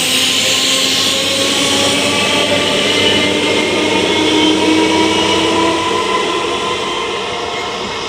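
A loud, continuous train rumble roars steadily nearby, with a broad hissing whoosh that slowly fades toward the end.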